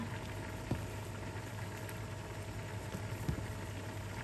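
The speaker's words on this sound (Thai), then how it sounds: "รอให้เดือดค่ะค่ะหลังจากที่เขาเดือดแล้วนะคะ" A pot of Thai red curry with winter melon and chicken boils at a steady bubbling hiss, with occasional small pops over a constant close simmer.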